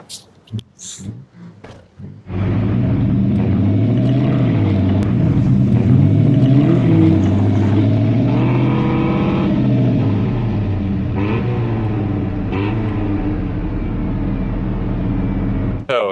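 A drift truck engine roars and revs steadily while it is pulled out of beach water at high tide, loud and close, after a few seconds of wind and handling noise.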